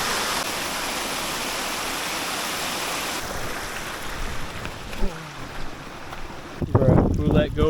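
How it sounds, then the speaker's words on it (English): A mountain creek runs along a backpacking trail near Mount St. Helens, giving a steady broadband rush that fills the scene before easing and turning more uneven, with some wind or handling noise near the end. "I was not expecting to see a creek here."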